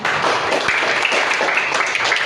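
A class applauds a student, a dense wash of many hands clapping steadily and continuously throughout, fairly loud and close, with no pauses.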